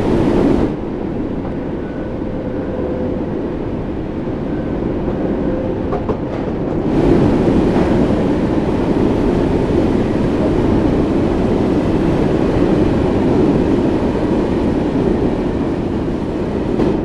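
A class 484 two-car electric multiple unit train runs on the Isle of Wight line in Train Sim World 2, a steady loud rumbling rolling drone with a brief quieter start, continuous and close.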